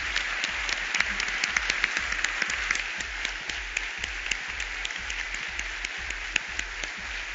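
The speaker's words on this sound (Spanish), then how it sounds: "Quiero pedirle al público que se una a mí en un fuerte aplauso para estas personas" An audience at an opening ceremony applauds steadily, a dense, even wash of many hands clapping that holds for several seconds without letting up.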